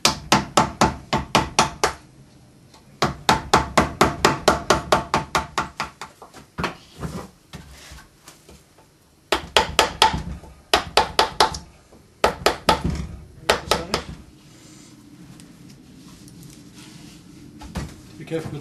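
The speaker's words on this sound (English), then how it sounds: "now I'm going to go to a V gouge just to get right in around this gill." V gouge carving wood around the gill of a large carved carp, a series of sharp rhythmic knocks in quick clusters with pauses between, close and crisp, as someone talks quietly between strikes.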